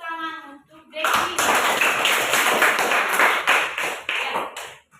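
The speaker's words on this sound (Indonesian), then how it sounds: "tepuk tangan untuk Devi." A classroom group claps for a student named Devi, a dense burst of many hands starting after a brief spoken moment and continuing steadily for several seconds before thinning out.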